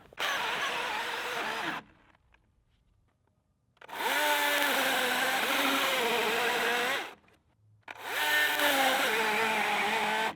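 A Husqvarna 120i battery chainsaw cuts into a tree in three loud, close bursts of steady motor whine, separated by two brief pauses of near silence.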